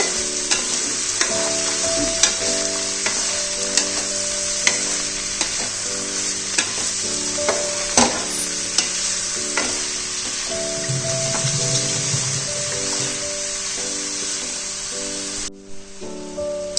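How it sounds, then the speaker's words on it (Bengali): Spinach frying in a pan with potato, loud steady sizzle and hiss of oil with intermittent stirring scrapes and clinks, close up, running throughout without speech, then breaking off abruptly near the end. "আমি এবার পালং শাকগুলোকে ভালো করে এর সাথে ফ্রাই করে নেব।"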